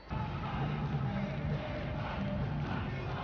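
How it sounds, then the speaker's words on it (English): Large crowd cheering and shouting at a stadium event, a steady, dense roar of many voices with no clear pauses, heard from a distance and slightly muffled. "Any moment is a good moment to break into cheering and dance"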